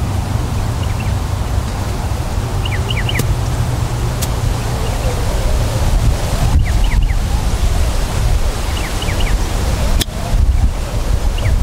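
Strong wind sweeps across a golf course in a constant, loud blustery roar buffeting the microphone, with faint distant bird chirps over about ten seconds.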